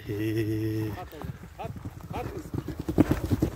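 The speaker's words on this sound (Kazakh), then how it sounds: "Атты мынакей түз жерде чабап көрүп атабыз." A horse's hooves clip-clop in a fast rhythmic beat on flat open ground, heard under a voice talking close by.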